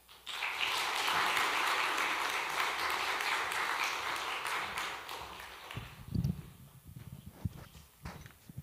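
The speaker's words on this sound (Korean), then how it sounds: "유호준 교수님께서 나오실 때 큰 박수로 환영하겠습니다" A church congregation at a Sunday evening service claps loudly and evenly to welcome a guest preacher. After about five seconds the applause fades into scattered low thumps and shuffling.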